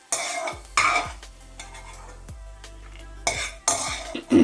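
Sweet somas pastries fry in oil while a metal utensil stirs them, giving sharp clinks and scrapes against the pan over a soft, steady sizzle, with bursts of louder clatter near the start and end.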